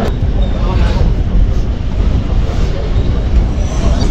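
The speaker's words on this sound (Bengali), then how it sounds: "আমাদের বনগাঁও লোকাল ট্রেনটি এইমাত্র ছেড়ে দিল শিয়ালদার উদ্দেশ্যে" Bangaon local train pulling out toward Sealdah produces a loud, dense, steady rumble of wheels and carriages that fills the whole stretch, heard from on board with no clear voices.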